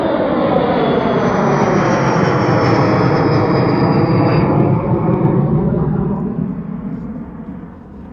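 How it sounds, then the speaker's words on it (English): An airplane roars overhead near the Potomac River, loud and steady, then fades gradually as it passes into the distance. "I hear a plane behind us."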